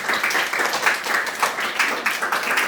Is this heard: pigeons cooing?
no